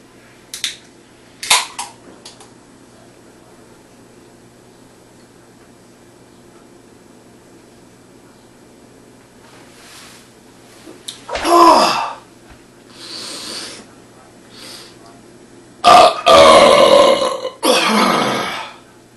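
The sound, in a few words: shotgunning a can of beer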